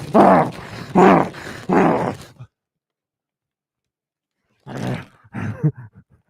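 A dog growls in three long, loud, rumbling bursts, then falls silent for a moment before two shorter growls follow close by.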